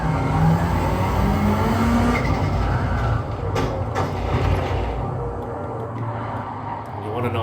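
Engine-swapped race car on slick tyres in Gran Turismo 7 spins its wheels, a loud, continuous roar of engine and scrabbling tyre squeal that holds steady throughout.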